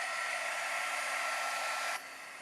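Hair dryer blowing on wet watercolor paint, a loud steady close whoosh for about two seconds that then drops to a softer, lower hum, with no talking.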